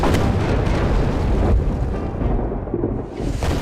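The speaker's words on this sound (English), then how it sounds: "Clinton responds in kind with howitzers and cannon. And for 3 hours, the thunder continues." Heavy cannon and howitzer artillery fire in a Revolutionary War battle, loud rolling booms that rumble continuously and overlap like thunder, with no pause between the blasts.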